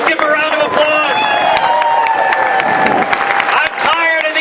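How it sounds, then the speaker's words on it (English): Applause from a crowd at a rally against in-state tuition, with clapping mixed into voices and crowd chatter throughout, fairly loud and close. "Representative Peter Palumbo, let's give him a round of applause"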